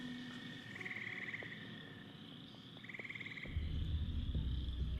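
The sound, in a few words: frog croaking sound effect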